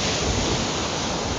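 Sea waves wash onto a beach at a seaside town, heard as a steady, loud broadband roar of surf with some wind, close by and continuous, with no talking.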